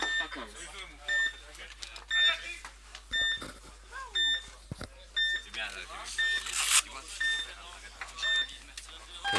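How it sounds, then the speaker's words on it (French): Buzzer in a paintball match, a series of short sharp electronic beeps repeating at a steady rhythm under excited commentary and crowd noise. "Et il va buzzer"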